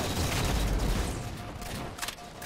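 A grenade blast in Halo 4 during a Capture the Flag match on the Harvest map: a dense, loud burst of rumbling noise with scattered gunfire in the mix, then a trailing rattle.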